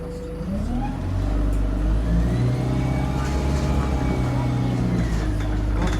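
A bus on route W9, registration LK09ENF, fleet number DE995, runs with a steady engine drone and a thin high squeal rising and falling over it, heard from on board.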